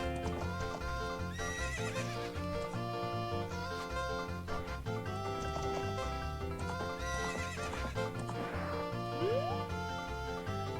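A horse in the video game Ocarina of Time whinnies loudly and its hooves clip-clop steadily around a corral, under continuous bright game music.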